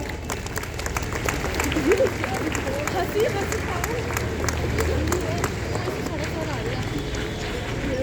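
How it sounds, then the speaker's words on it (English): Steady applause from a school assembly audience, a dense wash of clapping hands held at an even level for several seconds with a faint murmur of voices underneath. "have a round of applause?"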